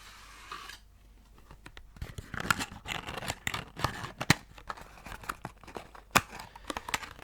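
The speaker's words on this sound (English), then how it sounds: "So let's open up the deck" Crinkling and tearing of cellophane and cardboard, close up, with sharp crackles and rustles as a deck of playing cards is unwrapped.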